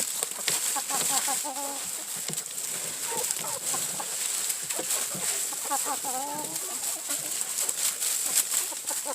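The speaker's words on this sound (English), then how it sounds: "And the chickens will go, and the chickens will do their part. Pick out the bugs, scratch." Chickens around compost bins cluck and murmur continuously, several birds close together, over a steady hiss and scattered scratching and rustling.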